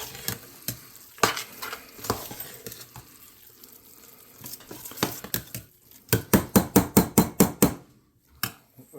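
Sauteed cabbage and onions are stirred into mashed potatoes. A spoon scrapes and clacks against the pot in irregular strokes, then in a quick run of rhythmic knocks, close and fairly quiet, with no talking.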